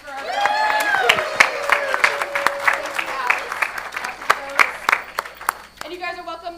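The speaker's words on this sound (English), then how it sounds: "Can I get a round of applause for our friends?" An audience at a faith gathering applauds, sharp individual claps ringing out over a voice and cheers at first, then thinning to scattered claps before talk resumes.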